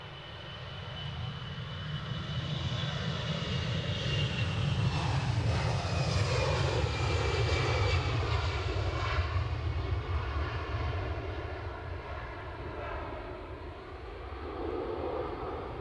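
An airliner at Edinburgh Airport gives a steady roaring engine drone that swells and slowly fades, with no talking.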